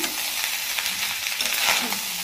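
Continuous sizzling of rice and paneer frying in a pan, with scraping stirring sounds breaking through now and then.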